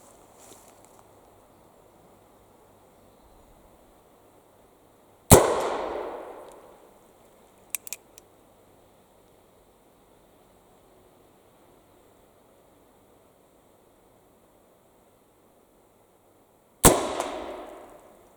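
An original .44 Colt Dragoon 3rd model revolver fires two loud, sharp shots about eleven seconds apart, each trailing off in a long echoing decay, with a few faint clicks between them and near silence otherwise.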